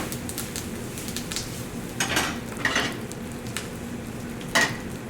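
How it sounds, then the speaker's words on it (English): Peppers sizzle loudly in a hot oiled pan, a steady crackling hiss with a few brighter bursts of spatter and faint clinks of cookware. "we're gonna throw these peppers in our hot pan"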